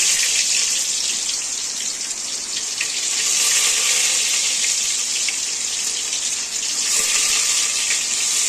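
Chopped onion fries in hot oil in a pan for a tengra fish curry. A loud, steady hissing sizzle holds close and continuous throughout, swelling slightly at moments, with no talking.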